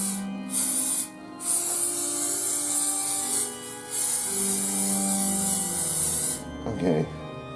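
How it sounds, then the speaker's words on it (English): Olive oil cooking spray is sprayed onto a plate in several close, loud hissing bursts separated by short pauses, with a soft clatter near the end. "I don't know if I went a little overboard with the spray, but better safe than sorry"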